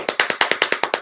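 Hands patter rapidly on a lap to imitate heavy rain, about ten evenly spaced close taps in just over a second, loud and steady with no voices.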